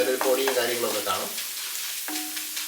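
Urad dal and mustard seeds fry in hot oil, a soft crackling sizzle running under a voice that speaks over part of it.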